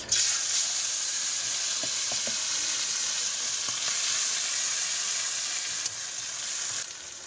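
Fish sizzling steadily in hot oil in a frying pan, a loud continuous crackle with a few brief knocks and stirs, steady throughout with no voices.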